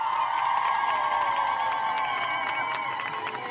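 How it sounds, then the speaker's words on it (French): A crowd in Iran applauds and cheers for women who have put their veils back on, with whoops and shouts rising over sustained clapping that slowly fades, heard from close by. "On les applaudit bien fort."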